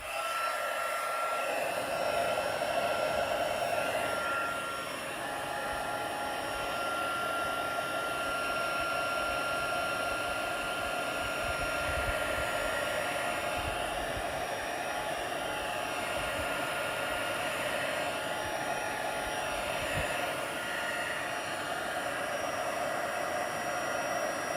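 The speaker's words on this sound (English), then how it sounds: "I'm just going to put the heat tool on again." A heat embossing tool blowing hot air over a card, a steady whirring hiss that runs unbroken for the whole stretch at moderate level, with no talking.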